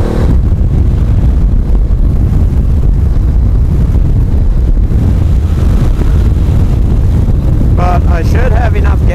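Wind roars past a rider on a Honda CB500X motorcycle, a loud constant buffeting rush that fills the whole stretch, with engine noise blended underneath.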